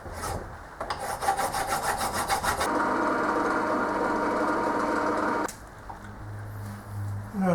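A hand file rasps across a metal shaft to cut a flat for an M6 set screw, steady rhythmic back-and-forth strokes up close, loud and continuous, then stopping abruptly near the end.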